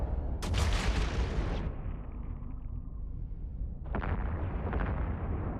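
Missile launchers fire on battleships in the space game Eve Online: two loud booming launch bursts a few seconds apart, each trailing into a low rumble.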